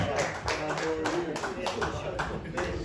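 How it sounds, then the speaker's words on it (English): Scattered hand clapping from a small group at a basketball team send-off event, sharp repeated claps with voices talking underneath. "one more round of applause, please"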